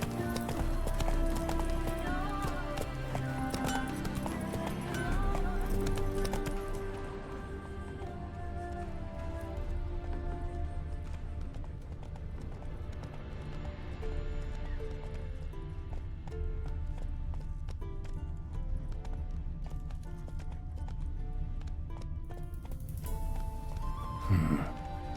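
Roach, a horse in The Witcher 3, gallops with steady rapid hoof clip-clops over a dense bed of game music and ambience, close and continuous, with a brief snort near the end.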